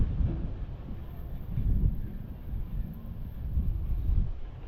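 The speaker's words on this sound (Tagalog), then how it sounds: "lakas ng hangin, ulan" Strong wind gusts buffet the microphone in surging, rumbling waves during rainy weather, a steady broadband roar rising and falling with no talk.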